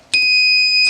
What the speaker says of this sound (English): you press that, the buzzer turns on, LED green goes on